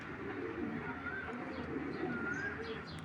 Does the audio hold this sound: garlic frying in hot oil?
no